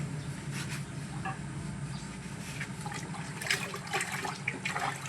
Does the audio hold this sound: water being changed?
yes